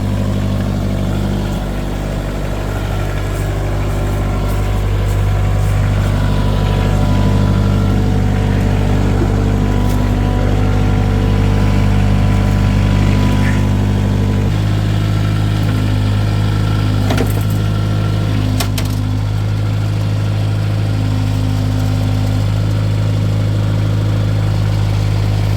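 Engine idling steadily after a cold start, a loud continuous low rumble with a slight shift in tone partway through and no talking.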